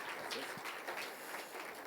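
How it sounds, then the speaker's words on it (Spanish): Congregation at a church service applauding, a fairly faint, even patter of many hands with scattered louder claps. "Le damos un fuerte aplauso al Señor Jesucristo"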